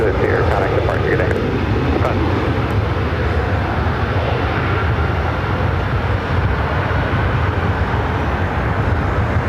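A jet airliner at LAX airport gives off a loud, continuous engine roar close by, broadband and steady across the whole stretch.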